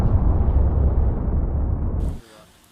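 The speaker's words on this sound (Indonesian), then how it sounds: "bulan sudah jatuh ke bumi dan meledak" A huge anime explosion as the moon crashes into the earth, a deep, rumbling blast that roars loud and sustained before cutting off abruptly into near quiet.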